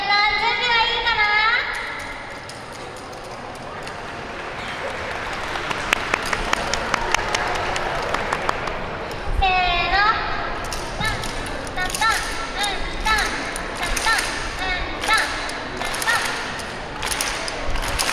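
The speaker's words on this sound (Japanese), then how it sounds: "踊り子が今から皆さんにやってほしい手拍子をやるので" Rhythmic group hand clapping by yosakoi dancers at an outdoor festival stage, sharp claps repeating in a steady beat over crowd murmur and voices, loudest in the middle stretch.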